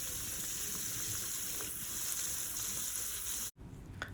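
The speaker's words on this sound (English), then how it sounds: "the shrimp are getting covered by that grease and it's getting fried in that grease." Shrimp fry in hot grease with a steady, dense sizzle, close and even throughout, cut off abruptly near the end before the crackle resumes.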